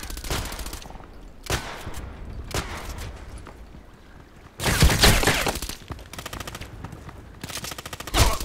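Colt Python Elite revolver fire in the shooter game Contract Wars, loud sharp blasts in separate bursts spread across the moment, with brief gaps between volleys.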